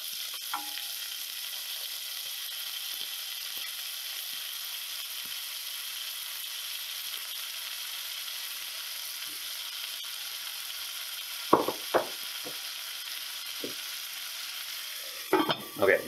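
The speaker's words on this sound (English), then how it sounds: "It's probably going to sizzle pretty good." Meat browns in hot fat in a pan with a steady, quiet sizzle, joined by a few sharp clinks and scrapes from a utensil near the end.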